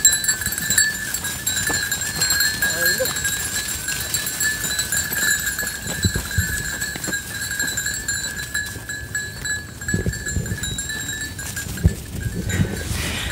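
Cameroon sheep move about on a pasture, with ringing bells sounding continuously and soft hoof and animal noises mixed in at moderate distance, and no one speaking.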